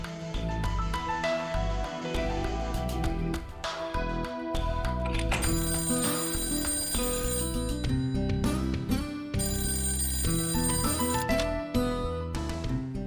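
A telephone rings loudly and repeatedly in a domestic scene, its electronic ring tone sounding over background music with no talk.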